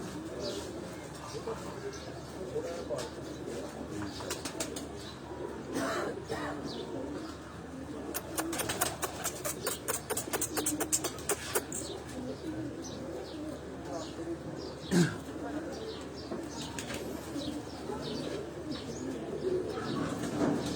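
Racing pigeons coo repeatedly on a rooftop loft, a steady low murmur of calls with brief chirps and a flurry of sharp clicks midway, mid-distance and moderately loud throughout.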